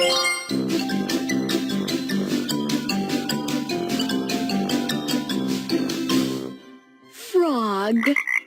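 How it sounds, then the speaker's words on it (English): A frog croaks repeatedly in a fast, rhythmic run of rattling calls, loud and close, followed by a short pause and a rising, warbling call. "Frog, frog."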